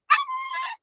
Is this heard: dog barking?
yes